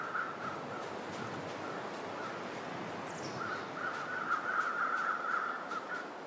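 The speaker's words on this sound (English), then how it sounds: "Where are those birds?" Crows caw repeatedly in the survival game The Long Dark, a steady run of harsh calls over a constant windy background, growing louder and denser toward the end with no talk.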